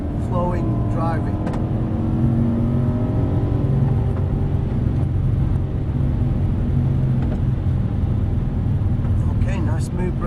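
A car engine hums steadily during quick, flowing laps of a racing track, a constant loud drone that rises and falls slightly as the car moves through corners, with a voice talking over it.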